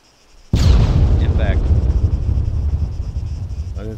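Rocket fired in the video game Arma: a sudden loud blast followed by a sustained roaring rush that slowly fades, with faint voices over the noise.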